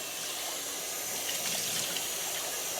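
Water runs steadily from a tap as a juicer filter is rinsed out, a continuous close splashing gush with no talk.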